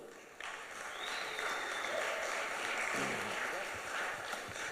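Applause for a panelist at a London Web3 and crypto conference, a fairly quiet, diffuse wash of clapping in a large room that rises after a brief lull and holds steady, with faint voices underneath.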